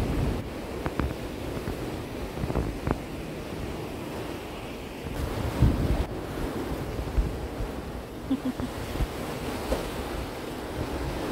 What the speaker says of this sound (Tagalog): Uy, lakas ng alon talaga